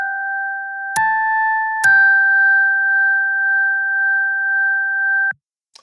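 A synthesized bell tone from an FM synth (Ableton Operator bell preset) rings out, struck twice in quick succession, then holds a clean, steady sustain for several seconds before cutting off abruptly.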